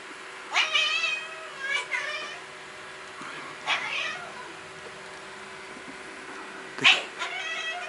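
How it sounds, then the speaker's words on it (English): A cat meows repeatedly, several drawn-out, wailing cries spaced a second or two apart, close by, with quiet moments between them. "Oh, poor kitty cat."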